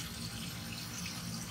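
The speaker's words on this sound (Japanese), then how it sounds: "第2弾、油そのままで焼き上げます。 揚げる感じで" Food pan-fries in a deep layer of oil over medium heat, producing a dense, continuous close-up sizzle with an even, rushing hiss and no pauses.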